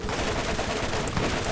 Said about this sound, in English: This gun fires like there's no tomorrow. This is super machine gun.